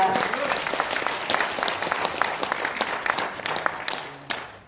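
An audience at a general assembly meeting bursts into sustained applause, dense overlapping claps filling the room before tapering off at the end.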